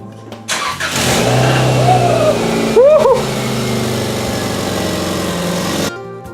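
A Subaru Outback, newly fitted with a replacement exhaust, is running and revving close by in a steady loud drone with a few short rises in pitch, then cuts off abruptly near the end.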